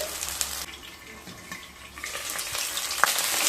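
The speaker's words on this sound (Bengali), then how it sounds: "আলুগুলোকে ভালোভাবে ভেজে নিয়ে তারপর ফিরে আসছি" Two medium potatoes frying in oil in a pan make a close, steady crackling sizzle with occasional scraping stirs and small pops, no one speaking.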